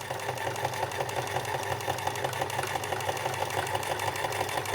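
A sewing machine stitches a seam that encloses a raw seam allowance, giving a steady, even whirring hum with no pauses and no talking.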